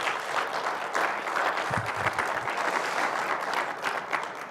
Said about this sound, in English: And I think John asked for a round of applause this morning. I want to repeat that